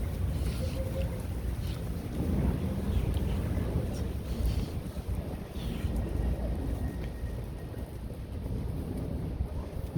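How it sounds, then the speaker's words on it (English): Strong wind with heavy rain on a Brooklyn street in New York City: continuous loud blustery roar and rain wash throughout, steady and close, no clear talk. "Because it's too windy."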